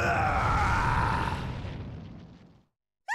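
A deep, rumbling roar of a demon in a Demon Slayer video game swells loudly and slowly fades out, followed by silence and a brief high chirping burst at the end.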